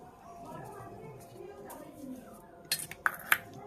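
Fried potatoes are spooned onto a plate, a soft shuffle followed by several quick metallic clinks of utensil against dish near the end, close and moderately faint, with a voice speaking softly underneath.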